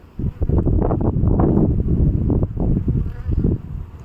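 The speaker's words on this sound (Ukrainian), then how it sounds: "вітер не дає знімати, дуже сильний вітер." Heavy wind buffets the microphone in loud, rumbling low gusts that run almost without a break, outdoors at beehives.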